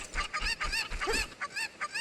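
A chicken clucking and squawking in the video game Zelda Master Quest 3D, a loud rapid series of about eight sharp bursts with brief gaps, alone without talk.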